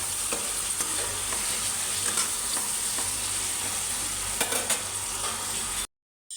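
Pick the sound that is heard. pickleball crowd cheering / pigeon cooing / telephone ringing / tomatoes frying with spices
tomatoes frying with spices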